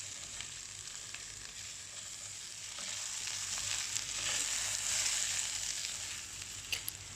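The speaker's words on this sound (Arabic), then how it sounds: "الخضار مش مطلوب منها انها يعني تنطبخ، مجرد تشويح" Vegetables being stir-fried briefly in a pan for Cantonese chicken, a steady bright sizzle that swells slightly midway, with no speech, only a couple of faint clinks near the end.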